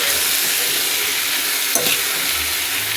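Food sizzles steadily while frying in a pot and is stirred, giving a constant hiss with a brief scraping clatter midway, close and loud, with no talking.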